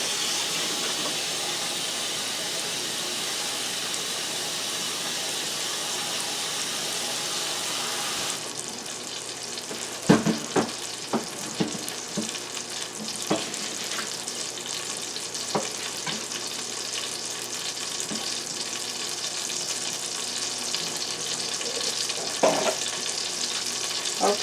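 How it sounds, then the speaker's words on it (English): Butter melting in a pan on the stove sizzles with a steady, close hiss, joined partway through by sharper crackles and occasional clinks of stirring. "so our butter is melting"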